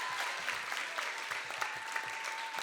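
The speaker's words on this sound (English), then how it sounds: "Y'all clap it up for Ricardo." An audience at a student leadership conference claps for Ricardo, a short burst of dense, steady applause filling the room, with no clear speech over it.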